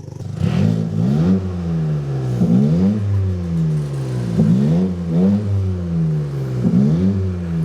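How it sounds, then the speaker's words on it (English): Engine of a freshly built Toyota GR Corolla, recently troubleshot for misfires, is revved repeatedly in a steady pattern of rises and falls, each blip sharp and close with a loud, even idle between. "Revving up the car, dude?"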